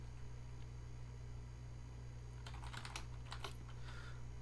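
Soft computer keyboard typing comes in a short burst of quick clustered keystrokes in the second half, quiet over a faint background hum, with no speech.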